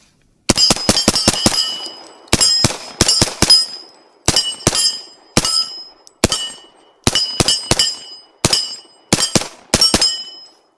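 A CMMG Banshee 45 pistol-caliber carbine fires at an outdoor range in quick strings of sharp, loud shots, each burst of two to six rounds separated by short pauses, with a metallic ring after each report.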